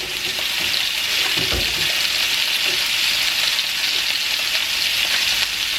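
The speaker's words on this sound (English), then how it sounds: "now it's time to go ahead and add our steaks. And you hear that sizzle?" Steaks searing in a very hot pan, giving a loud, steady, close sizzle that hisses without a break from start to finish, with no voices.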